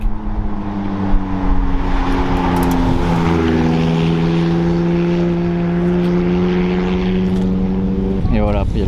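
Convoy of supercars, including a white McLaren, passing on a mountain road: loud, sustained engine drone with a rising and falling pitch as the cars approach and pass, ending with a sharp revving burst.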